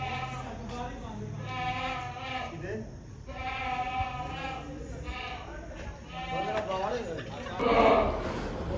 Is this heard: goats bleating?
yes